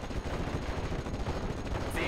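Gunfire in the World War II strategy game Steel Division: Normandy 44 forms a continuous dense rattle of shots and rumbling battle noise, fairly faint and steady throughout.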